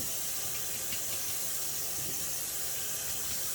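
Warm water is poured onto an arborvitae, a steady soft hissing splash of liquid running continuously without talk.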